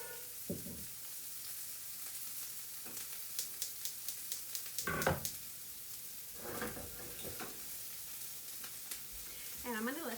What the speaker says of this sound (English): And I'm going to let those saute for just a few minutes